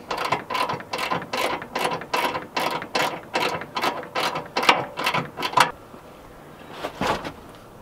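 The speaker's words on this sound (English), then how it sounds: "Gotta put those back in, 13 mil." Rapid bursts of a ratchet snug 13 mm bolts on the fan shroud of a 2003 Dodge 2500 during an electric fan replacement. There are about a dozen quick, even clicking runs close up, then a pause and one final short burst.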